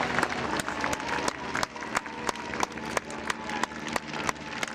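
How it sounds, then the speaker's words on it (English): Outdoor crowd at a historical reenactment festival applauding reenactors, steady loud clapping with sharp individual claps standing out throughout, no talking over it. "Give them a round of applause."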